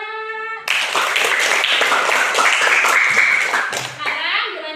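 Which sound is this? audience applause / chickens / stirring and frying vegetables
audience applause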